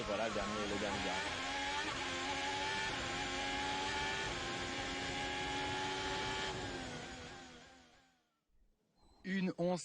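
A Formula 1 car screams through the Monaco street circuit during practice, its high engine note sustained and loud with upshifts before fading into silence; a brief burst of another car returns at the end.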